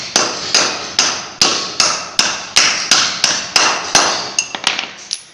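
Metal hammer blows drive a bearing into a Royal Enfield motorcycle chain sprocket, about a dozen sharp, evenly spaced strikes, close and loud, ending in a few quicker lighter taps.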